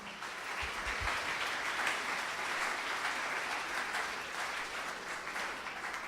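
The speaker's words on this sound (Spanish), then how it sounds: "Alguien que aplauda esa palabra." Church congregation applauding during a sermon on tithing, a steady, fairly soft wash of many hands clapping that holds evenly for several seconds with no voices over it.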